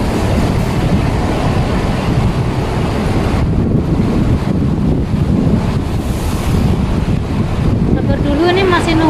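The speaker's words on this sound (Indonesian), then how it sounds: "Ini anginnya sepoi-sepoi banget." Steady wind rushing across the microphone at a city street crossing in Wan Chai, Hong Kong, a continuous loud breezy roar with faint traffic and street noise underneath.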